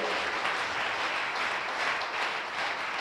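A church congregation claps steadily for the Lord, dense and sustained applause filling the whole moment with no pauses.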